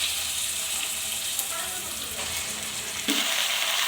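Mutton pieces dropped into a pan of browned onions hiss in a loud, steady sizzle that jumps sharply near the end as more meat hits the hot oil.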